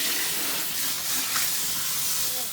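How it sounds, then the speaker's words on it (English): Fine water spray misting over a tray of germinating sunflower microgreen seeds, a steady close hiss running throughout without pause. "So what I've been doing is simply spraying it off or rinsing it off."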